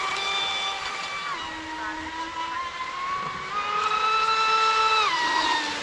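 An Oxidean Dominator RC boat with an 8S SMC 5500 battery runs at half throttle, its motor giving a steady high whine that rises and falls in pitch as it passes, loud and fairly close with no talk.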